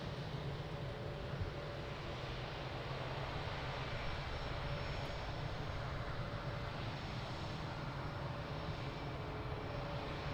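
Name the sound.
airliner engines at Lisbon Airport runway 02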